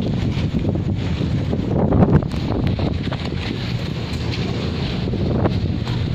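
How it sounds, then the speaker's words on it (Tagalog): Steady wind blows by a lake, roaring and buffeting against the microphone in a constant low rumble, with slight gusts and no talking. "Ang ganda na simoy ng hangin dito sa C6."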